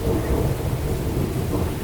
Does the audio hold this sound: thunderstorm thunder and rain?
yes